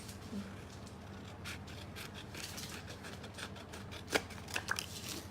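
Paper being trimmed with scissors while making a tote folio album, a soft steady rasp of cutting and rubbing, with a few sharper snips toward the end, close and fairly quiet.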